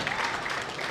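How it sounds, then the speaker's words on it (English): Spectators at the 2017 Team USA men's bowling trials applaud a bowler in a short, steady burst of clapping heard at a distance, with a commentator talking over it. "Big round of applause. Big smile, too, for Jordan."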